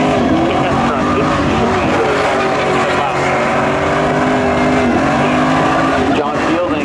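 A Chevy pickup truck races in spectator drags at a thrill show, its engine roaring loud and steady with whining gear tones, under an announcer's commentary.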